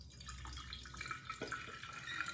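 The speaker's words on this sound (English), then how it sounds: "pour my hot water in." Hot water is poured into a tea pitcher, making a short, close splashing trickle over a couple of seconds.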